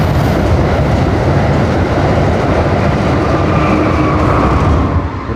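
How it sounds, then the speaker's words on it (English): A train passing close by in a Chicago neighborhood, loud steady rumble and rail clatter filling the whole stretch without pause, no voices over it. "Y'all heard the train"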